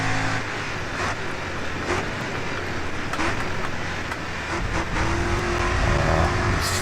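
Super Utes race cars racing in GRID Autosport on the last lap: a continuous engine drone that rises and falls in pitch as the cars accelerate and shift, steady and fairly loud throughout, with no talk.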